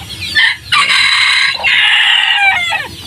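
Wild chicken crowing up close, a loud rooster cock-a-doodle-doo drawn out across nearly three seconds after a short clucking start, with no one talking.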